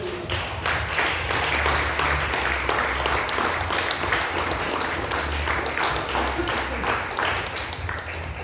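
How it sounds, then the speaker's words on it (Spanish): Church congregation applauding during a sermon, a long, even spread of many hands clapping with a low hum underneath, continuing at a moderate level for over eight seconds without speech. "fuerte aplauso al Señor"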